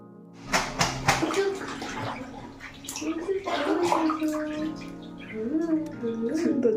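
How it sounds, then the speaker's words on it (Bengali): A child washing clothes in water, splashing and sloshing up close, with gurgles and drips and a voice chattering and calling over the water throughout. "তিনার কাপড় জামা কাচতে বেশ মজাই লাগছে, কারণ জল ঘাটার সুযোগ পাচ্ছে।"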